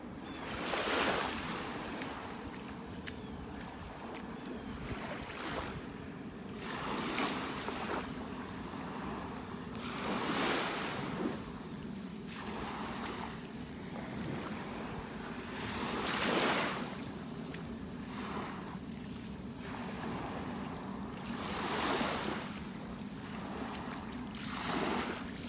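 Surf rolls onto the beach at Delnor-Wiggins in North Naples, Florida, with repeated waves breaking and washing up every few seconds over a continuous wind-blown roar.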